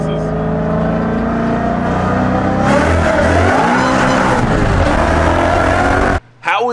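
A 1000hp Toyota Supra accelerates hard in second gear, its loud engine roaring and rising in pitch with a tire-squeal edge, close and continuous before cutting off abruptly near the end.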